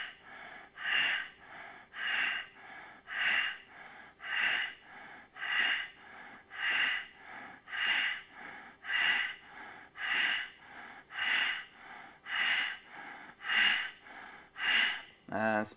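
Steady, rhythmic yoga breathing during a hatha class, about a dozen evenly spaced breathy pulses over the stretch, each rising and falling, close and clear.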